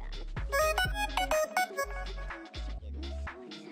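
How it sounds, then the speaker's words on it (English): A Hammond-style lead synth patch from a future bass track plays solo, a quick staccato melodic phrase of bright, organ-like chords with short pauses, fairly quiet. "where we got the Hammond lead, that sounds like this on its own"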